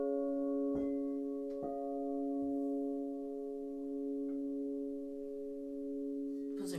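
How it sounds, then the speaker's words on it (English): Quartz crystal singing bowls ring with steady, pure sustained tones layered in several pitches, with a few soft strikes renewing the sound; calm and moderately quiet throughout. "Those are crystal bowls made of quartz crystal."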